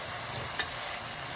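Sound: frying fenugreek leaves curry in a pan

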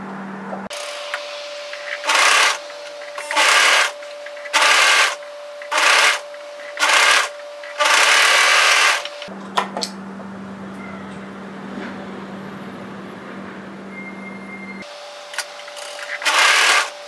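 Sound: overlocker sewing machine stitching seams on a top

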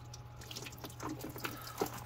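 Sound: water poured from a bottle onto Tesla suspension

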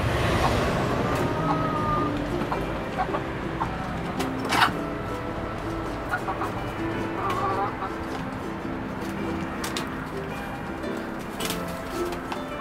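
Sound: rooster chicken

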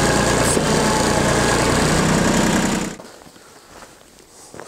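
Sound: 1989 Yanmar tractor engine idling

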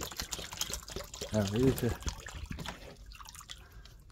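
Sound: water being poured out for stray cats

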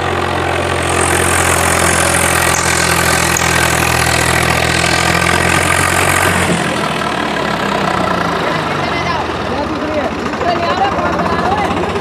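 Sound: tractor engine straining

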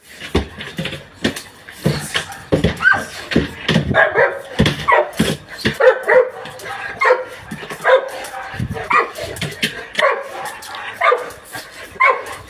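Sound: search and rescue dog barking after finding a person

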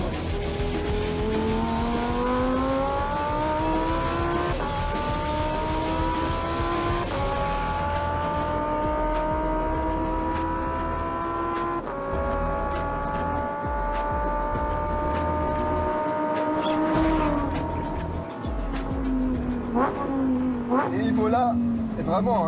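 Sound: Lamborghini Huracan Performante mid-mounted V10 driving on circuit

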